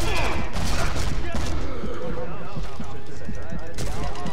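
Dense, continuous gunfire from a World War II sniper video game, with overlapping bursts and shots packed together under constant talk.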